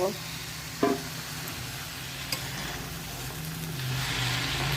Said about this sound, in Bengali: লঙ্কা গুঁড়ো, হলুদ গুঁড়ো আর জিরে গুঁড়ো আর নুন দিয়ে দিয়েছি। মশলাটা কষিয়ে নেব।